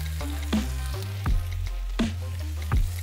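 Golden garlic and rosemary frying in a pan, a steady close crackling sizzle with a few louder pops and tosses, no voices.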